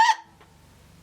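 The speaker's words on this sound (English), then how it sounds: "That was a hiccup." A single short hiccup, sharp and close, gone almost at once and followed by near silence.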